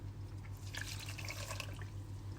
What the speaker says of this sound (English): now we put the water in.